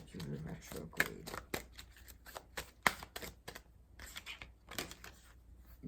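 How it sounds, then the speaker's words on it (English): Playing cards are shuffled by hand in a series of quick riffling bursts and sharp snaps at close range, mixed with soft voice in the background. "Maybe if I shuffle this way"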